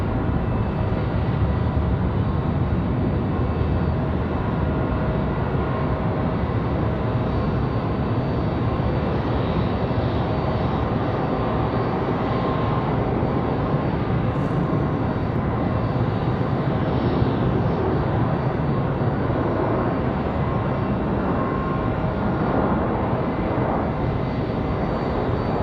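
A Boeing 737 landing at Raleigh-Durham airport in windy conditions gives a loud, continuous engine roar and rushing noise that holds steady for the whole stretch, with no voices.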